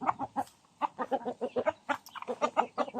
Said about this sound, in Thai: เป็นไก่สายก๋อยนะครับ